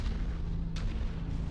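A turret firing in the video game Mechwarrior 5: a single heavy boom against a dense, rumbling battle background, mid-distance and loud, with no voices.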